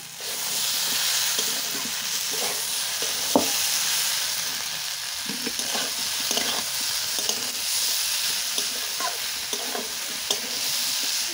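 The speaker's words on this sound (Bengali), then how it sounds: "এই মশলাটা দিয়ে আমি একটু ভালো করে কষিয়ে নেব। হলুদ গুঁড়ো, জিরে গুঁড়ো, কেটে রাখা টমেটোগুলো দিয়ে দিচ্ছি।" Chopped tomatoes with turmeric and cumin powder fry in a pan at a steady, close sizzle, punctuated by occasional scraping knocks of a spoon stirring the spiced mixture.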